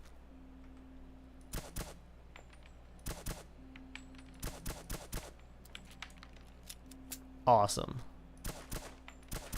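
Pistol shots from an old 1911 at a target shooting booth in Fallout 4, several sharp reports spaced in short bursts of two or three, with a brief spoken word and a louder clatter near the end.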